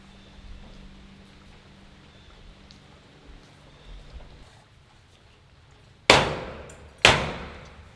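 A hammer strikes a nail punch twice to set metal ceiling trim under a porch: two sharp, ringing metallic clangs about a second apart, loud and close after several seconds of quiet outdoor background.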